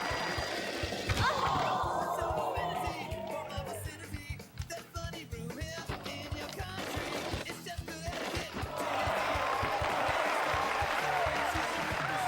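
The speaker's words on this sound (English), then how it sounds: "Yes, clap for me. Clap." A crowd claps and cheers in Tony Hawk's Pro Skater on the Dreamcast, a dense, steady wash of applause that runs throughout, with a voice talking over it and sharp clatters from skateboard tricks mixed in.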